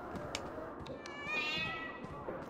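A pet cat meows with a drawn-out, rising-and-falling cry midway, set against a busy background of game sounds and clatter.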